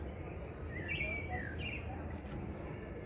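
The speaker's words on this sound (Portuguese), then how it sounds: "Canto dos pássaros." Birds chirping and calling in a Brazilian forest, faint intermittent tweets scattered over a steady low background hum, with no voices.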